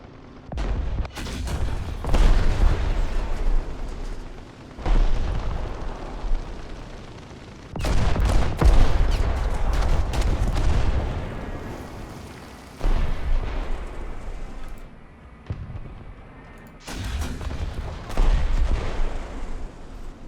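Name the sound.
M4A3 105 Sherman howitzer firing high explosive in War Thunder video game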